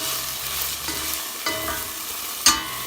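Boiled chickpeas sizzle briefly in oil as they are stirred in a pot, with a steady close frying hiss, soft scraping of the spoon and one sharper clink near the end.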